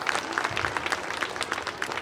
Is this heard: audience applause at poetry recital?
yes